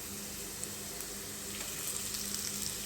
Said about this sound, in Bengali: এখন একটু তেলের মধ্যে ভেজে নিব